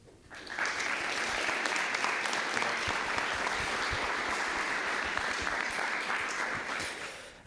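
A banquet audience at a fraternity scholarship dinner breaks into sustained applause welcoming a speaker, a dense wash of clapping that swells quickly, holds steady for several seconds and tapers slightly at the end.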